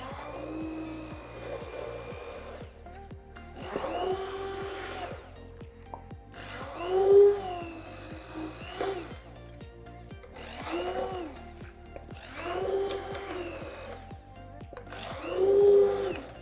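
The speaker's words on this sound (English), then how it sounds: "So blend through the veggies." A blender whirs through chopped vegetables for cauliflower soup in loud surging bursts, the motor rising and dropping in pitch over several pulses up close.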